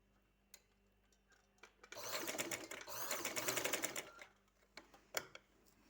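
A sewing machine stitches folded fabric in one rapid, rattling burst of about two seconds, framed by quieter scattered clicks and handling taps before and after.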